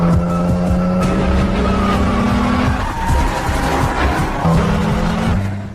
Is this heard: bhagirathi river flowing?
no